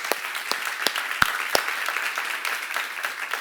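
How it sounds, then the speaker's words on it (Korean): A church seminar congregation claps in a thin, scattered round, with a few sharp, distinct hand claps standing out early over a soft, uneven patter that fades toward the end. "박수 한번 하세요"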